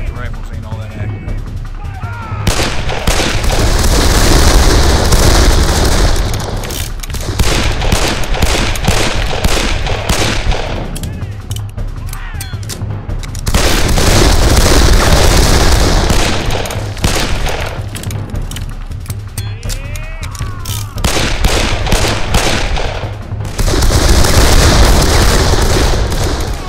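Rifle volleys are fired at rebels near Dunker Church, with loud bursts of massed gunfire and booms rolling in repeated waves and brief gaps between them, while voices talk over the shooting.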